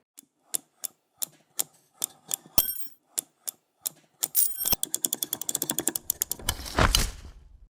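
Typing on a mechanical keyboard fitted with ice cream cat keycaps: sharp, evenly spaced clacks at first, then a rapid burst of keystrokes, close and clear with no talking.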